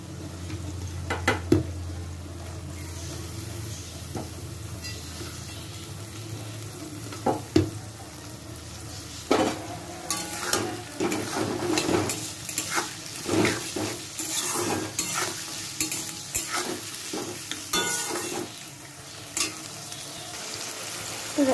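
Green beans and carrots stir-fry in a hot pan, a continuous sizzle punctuated by sharp clacks and scrapes of a spatula against the metal. The stirring grows busier and louder in the second half.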